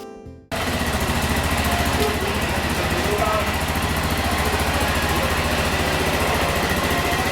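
A motorcycle engine fires up after a brief quiet moment and settles into a steady, loud idle close by at the start of a motorcycle tour in Costa Rica.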